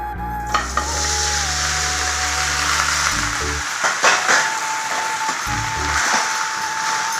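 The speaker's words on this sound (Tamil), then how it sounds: "அதை கொஞ்சம் வறுத்துக்கலாங்க அந்த எண்ணெயிலே." Cut leftover idli pieces frying in oil in a pan, a bright steady sizzle with occasional clatters and stirring knocks, while a low hum and a faint tone run underneath at times.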